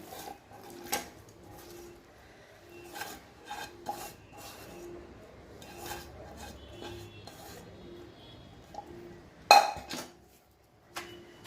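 Cucumber pieces being ground in a stone mortar for chutney, with rhythmic rubbing and scraping strokes close by, repeated at a steady pace, plus a sharper knock near the end.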